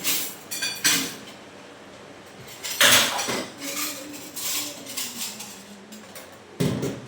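Plates handled and stacked close by, with several sharp ceramic clinks and clatters spaced irregularly between quieter scraping and shuffling.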